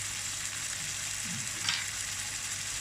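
Chicken pieces for an Indian-style chicken dish cook slowly in a pan, giving a soft, steady sizzle with faint stirring scrapes and a brief brighter crackle partway through, with no talk.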